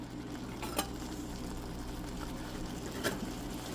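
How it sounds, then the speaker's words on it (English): Sweet red relish is stirred in a cooking pot: a constant soft sizzling simmer with a couple of sharp spoon clicks against the pot. "So you're gonna make sure that you stir,"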